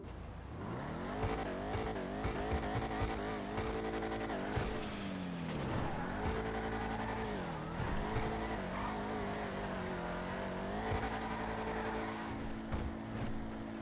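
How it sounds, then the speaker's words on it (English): A Declasse Vigero ZX muscle car in the GTA Online video game revs steadily, its engine note rising and falling through several throttle swells with a tire-squeal-like edge, loud and close with no talking. "we're going to go ahead and take a listen to this car before we take off"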